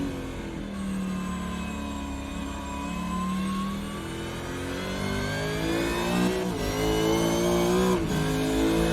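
A race car engine in iRacing, Super2 Series at Sandown International, droning loudly and steadily as it accelerates, its pitch climbing gradually with brief dips at gear shifts.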